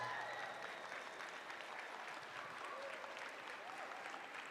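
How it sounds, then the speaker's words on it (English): A large audience at the Think Indigenous event applauds teachers, principals and education staff, a steady, dense wash of clapping that sounds distant and fairly soft and continues without a break. "Let's give all of them a round of applause."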